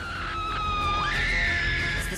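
A shrill, sustained scream from a science fiction monster film rises and bends in pitch, loud and close, with no talking over it.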